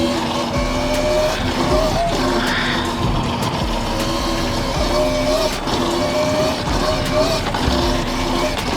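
A Hiknight GTX1 electric bike runs with a steady loud motor whine and a strong rush of wind and road noise while cruising along, with a voice faintly mixed in.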